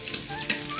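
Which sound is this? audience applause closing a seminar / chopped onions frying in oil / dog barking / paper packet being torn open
chopped onions frying in oil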